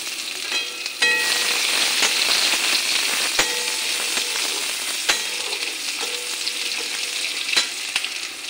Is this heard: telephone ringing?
no